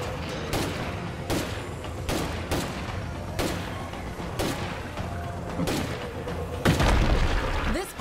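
Rifle gunfire in the zombie survival game State of Decay 2: about nine sharp, loud shots at irregular intervals over a continuous rumbling game soundscape, with a heavier burst near the end.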